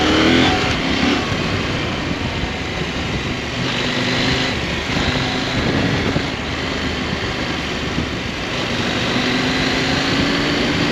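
A 2021 KTM 890 Adventure R motorcycle engine rises and falls steadily as the rider brakes, gets back on the throttle and backs off, with loud wind rush throughout and no talking.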